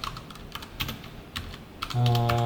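Steady, close typing of code on a computer keyboard during a programming lesson on exceptions: brisk irregular key clicks throughout, joined near the end by a steady low hum.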